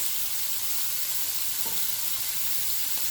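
Shrimp and salmon bites fry in a pan with a dense, even sizzle and crackle that holds steady throughout, close and clear with no voices.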